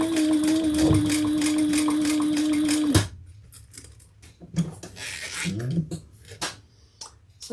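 A sewing machine runs in a fast, even stitching rattle for about three seconds, then stops abruptly as the thread breaks, leaving scattered clicks, handling noises and a quiet voice.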